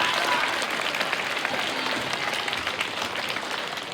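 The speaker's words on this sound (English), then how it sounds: "Round of applause for Jamie and Marta." Steady, dense audience applause for Jamie and Marta at a Veterans Day event, a full crowd clapping close and loud throughout with no voices on top.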